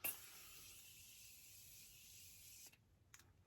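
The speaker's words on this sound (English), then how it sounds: "Morphe setting spray" A continuous fine mist of Morphe setting spray hisses onto a face for about two and a half seconds, close and fairly soft, then cuts off into near silence.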